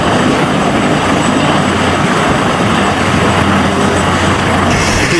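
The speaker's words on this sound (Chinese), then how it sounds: "直升机降落无需关掉发动机" Viper attack helicopter sitting on a landing pad with its engine left running during refuelling and rearming at a US Marine Corps exercise, a loud steady rotor and turbine roar throughout, close and continuous with no talk.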